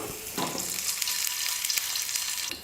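Curry leaves drop into hot oil with fried mustard seeds and urad dal, giving a loud, bright, continuous sizzle and crackle close by, with no voices.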